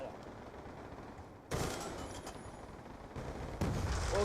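Modded-bullet gunfire in the Black Ops 2 multiplayer video game, heard as loud bursts of rapid shots that start abruptly and recur in close-up waves with dense, harsh noise.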